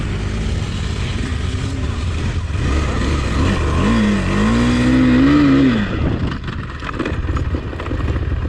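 A KTM Adventure motorcycle on an off-road training course brakes hard with the rear wheel locking, its engine loud and close, the pitch swelling and then dropping away as it slows.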